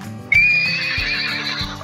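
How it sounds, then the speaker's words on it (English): A horse gives a single loud, close neigh, a high whinny that sweeps and trails off over low hoof-like thuds. "Horse."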